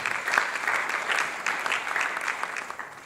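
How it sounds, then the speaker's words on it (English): Applause from an audience at an annual general meeting runs steadily for a few seconds, a dense patter of clapping that swells slightly then eases, heard from within the hall. "Can we please welcome with a round of applause?"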